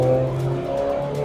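The engine of a Dallara Stradale under power, its turbocharger spooling as a steady, loud, sustained whine over the engine note, close to the microphone, with no voices.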